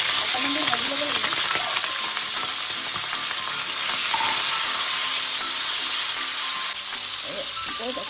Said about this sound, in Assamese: প্ৰথমতে মই এই অক্টোপাছখিনি অকণমান দেৰি ভাজি ল'ম